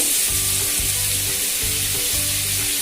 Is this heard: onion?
yes